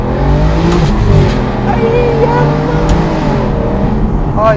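An Aston Martin Virage engine revved hard toward the limiter: a loud, close, continuous snarling roar with shifting, layered engine tones across the whole stretch.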